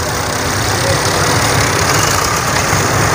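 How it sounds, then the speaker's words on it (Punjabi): Tractor engines idle nearby, Fiat 480 and John Deere machines in muddy ground, a loud, steady low rumble with continuous mechanical chugging throughout. "ਆਹ ਤਿੰਨੇ ਟਰੈਕਟਰ ਤੁਹਾਡੇ ਸਾਹਮਣੇ"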